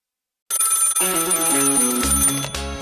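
An old-style telephone bell rings in a radio advertisement, bright, loud and repeated after a moment of silence, with a musical tone underneath.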